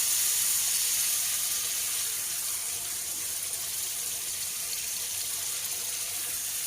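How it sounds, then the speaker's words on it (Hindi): A steady hiss of water hitting a hot pan of green chillies for maghaz masala, loud and close at first, settling into a continuous sizzle. "इसमें मैं थोड़ा सा पानी डालती हूँ।"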